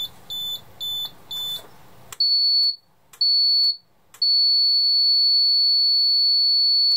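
An ITI SX-V security system panel sounds its siren test: a few short, bright electronic chirps, then a steady, piercing high-pitched tone that holds loud and alone to the end.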